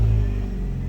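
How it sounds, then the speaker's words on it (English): A car engine, just started with freshly cut keys on a locksmith's auto call, holds a steady low rumbling idle throughout, loud and close with no talk. "This car starts."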